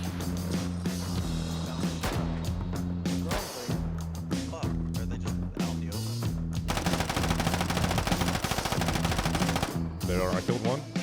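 Rapid bursts of VSD rifle fire in the Deadside shooter game, dense and loud throughout, layered over a steady musical or ambient bed with a voice talking over it.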